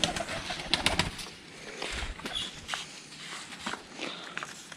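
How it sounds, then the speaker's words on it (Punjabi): Pigeons cooing softly in a loft, low murmuring calls mixed with shuffling, light footsteps and a brief wing flutter, fairly close but quiet. "ਡੱਬੇ ਕਬੂਤਰ ਵੀ ਹੈਗੇ ਨੇ ਤੁਸੀਂ ਦੇਖ ਸਕਦੇ ਹੋ"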